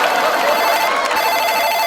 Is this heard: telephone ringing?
yes